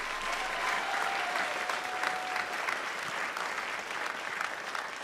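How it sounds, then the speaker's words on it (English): A room full of people clapping steadily for several seconds, a dense, even round of applause with no break, for a college jazz band at a spring concert. "give them a round of applause"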